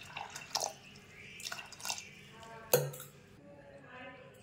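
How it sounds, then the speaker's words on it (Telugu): Water is added to potatoes and overnight-soaked green peas in a pressure cooker, giving a few brief splashes and drips with light metallic clinks of the vessel, fairly quiet. "కొంచెం వాటర్ వేసుకోవాలి."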